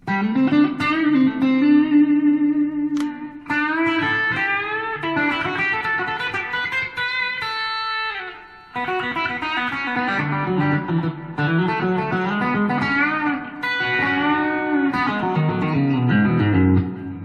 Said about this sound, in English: Voice number 2, we've got a deluxe reverb with a compressor.